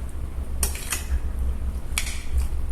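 A spoon clinks against a pot while mango pickle (chethu manga achar) is mixed, then a lid closes on it: a few sharp, close metallic knocks spaced over a low steady background, with no voices.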